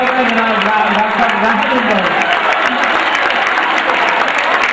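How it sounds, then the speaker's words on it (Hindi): Audience applause and cheering at a Hindi-Urdu poetry recital (mushaira) in Wardha, a loud, dense crowd sound continuing under a voice heard at the start. "तालियां बजाइए दोस्तों"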